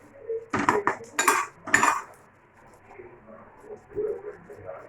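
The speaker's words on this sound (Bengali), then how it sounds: "এবার পকোড়াগুলো উল্টে উল্টে দেবো" Potato pakoras are flipped in a frying pan, giving three quick clusters of clinking pan and utensil knocks early on, then quieter scraping and a soft knock, close and alone with no voices.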